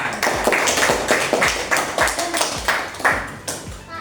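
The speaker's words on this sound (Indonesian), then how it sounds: "Ya, beri tepuk tangan" Classroom group clapping for a correct answer, a roughly rhythmic series of sharp claps repeating about every half second, close and fairly loud, with faint voices mixed in.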